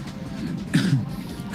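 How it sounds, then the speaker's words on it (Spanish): A single short, throaty cough stands out against faint background noise. "Perdón por la tos."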